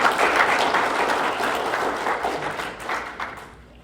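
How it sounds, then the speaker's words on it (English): Steady round of applause from an audience at a coaching event, dense clapping that holds strong for a few seconds and then fades out toward the end. "Let's give them a round of applause"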